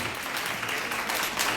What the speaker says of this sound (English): And also give yourself a round of applause.